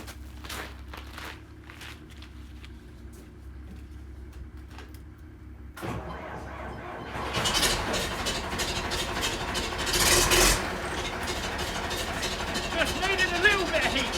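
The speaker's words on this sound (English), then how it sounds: "let's go back and try the tractor again" A cold tractor engine in Arctic Lapland winter cranks and catches partway through, then runs steadily and fairly loud after a quiet start with faint footsteps.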